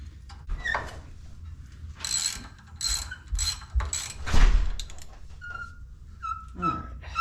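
A 3/8 ratchet clicks in short bursts while turning bolts on a truck wheel hub during a six-lug conversion on a Chevrolet C10, with mechanical ratcheting close up and some quiet handling sounds between strokes.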